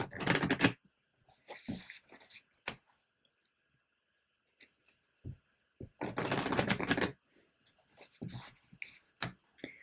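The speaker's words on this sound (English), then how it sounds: "One more shuffle." Playing cards are riffled and shuffled in a few quick bursts, crisp and close, with taps and soft handling sounds in the quiet gaps.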